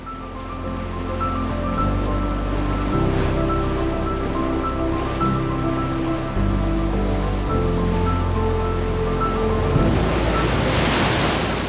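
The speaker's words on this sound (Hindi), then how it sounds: "Look at this waterfall" Jang waterfall in Tawang, Arunachal Pradesh, roars in a loud, continuous rush of falling water with wind buffeting the microphone, and no speech.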